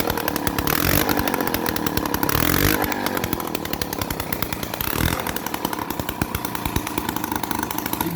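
A Peugeot 103 moped's two-stroke engine, rebuilt with a damaged cylinder, runs close and loud with a buzzing, chainsaw-like rasp, revving up and down in rapid pulsing bursts for several seconds.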